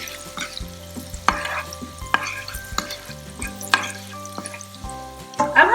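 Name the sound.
turmeric powder frying in a pan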